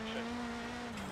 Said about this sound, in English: I don't like the sound the car is making. It sounds like it's pretty much leaking steam or something.